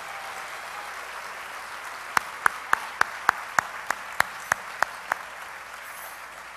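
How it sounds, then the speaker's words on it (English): An audience at a pro-life awards event applauds the award recipients: a steady wash of crowd clapping, with a run of sharp, distinct nearby claps standing out in a regular rhythm over the middle stretch. "Can we get one more collective round of applause for all four of our Courageous Defender of Life Award recipients?"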